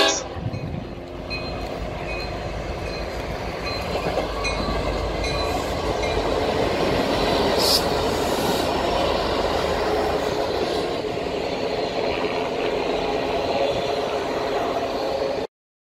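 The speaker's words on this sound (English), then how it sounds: "Union Pacific 4141 led George H.W. Bush's funeral train to his final resting place" Union Pacific 4141 pulls George H.W. Bush's funeral train to the Presidential Library in College Station, Texas. It is a loud, steady roar of rolling rail cars with clattering wheels and drawn-out horn-like tones, then it cuts off abruptly.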